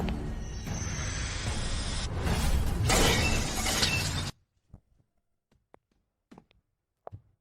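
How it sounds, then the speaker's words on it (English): Steel shatters in mid-air from a martial-arts chi strike: a loud, sustained crashing burst of breaking metal lasting several seconds, then sudden quiet broken by scattered small clinks and debris falls. "Projecting chi, shattering steel mid-air."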